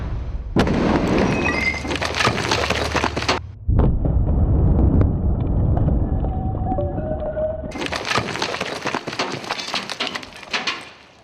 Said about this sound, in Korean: 채석장을 뒤흔드는 요란한 폭발 소리